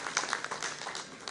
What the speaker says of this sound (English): Yes, I put a round of applause for Dr.